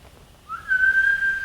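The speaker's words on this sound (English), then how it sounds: "Jewel whistles, once and shrill." One shrill human whistle rises briefly, then holds a single steady pitch for about a second, clear and close in otherwise quiet surroundings.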